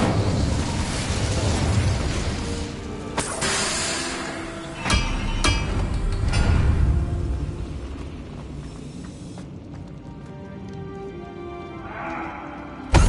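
The Incendio fire spell in Hogwarts Legacy bursts out in loud, roaring blasts of flame, with several sharp cracks and a long rushing swell that fades before a final burst.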